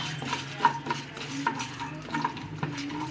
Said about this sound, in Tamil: நம்ம அதை வந்து போட்டுடலாம் அதில் அதையும் போட்டு நல்லா வறுக்கணும்